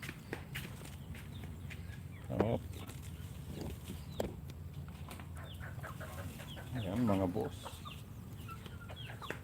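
Farm birds, including several ducks, quack and cluck close by in two short bursts while footsteps shuffle around them, over quiet background.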